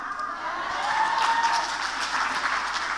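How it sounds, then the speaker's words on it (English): A theatre audience at a musical's final show claps together, a steady wash of applause that stays fairly even throughout, heard from within the hall without voices on top. "We'll just have them clap."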